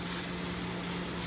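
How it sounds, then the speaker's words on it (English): A steady, close hiss of water spraying onto a Ford Crown Victoria's engine runs unbroken for the whole moment, loud and even with no pauses. "we're going to go ahead and spray the motor off real quick"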